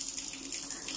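Steady running water pours from a roadside tap, a continuous broadband hiss with a faint low hum, constant and close throughout with no voices.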